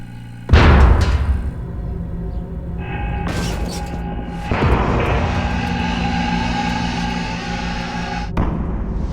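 A 55-gallon steel drum collapses under atmospheric air pressure, giving several loud booming crumples and metallic bangs over a sustained, rumbling roar.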